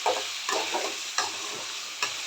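Chicken leg fry ingredients sautéing in oil, with a steady sizzle broken by four distinct stirring scrapes at roughly even intervals, close and alone.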